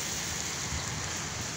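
Heavy rain falling on the streets of Peshawar, a dense, steady hiss of downpour close by with no voices.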